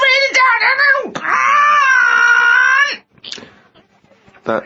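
A short vocal podcast jingle introduces a diary reading on a comedy podcast. Loud, wavering, voice-like tones carry for about three seconds, then fade into a few brief fragments.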